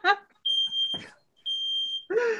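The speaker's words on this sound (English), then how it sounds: "Uh-oh. Somebody's fire alarm." A home fire alarm sounds two sustained high-pitched beeps in a living room, loud and steady, with a person speaking briefly before, between and after them.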